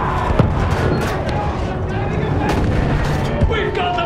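Dense battle din in a video game with rapid machine gun fire and booming blasts layered over shouting voices, loud and continuous with sharper shots standing out.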